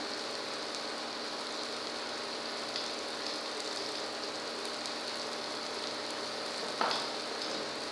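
Spices roasting in ghee for toor dal fry, a steady soft sizzle and crackle throughout with one brief louder stir near the end.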